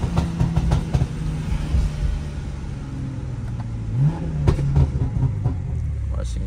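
BMW M340i engine revving while driving, with rising and falling pitch sweeps over a steady road rumble, sounding off; a short surge of revs near the end.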